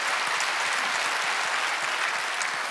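Dense, continuous clapping from a church congregation during a worship service, steady and loud with no pauses.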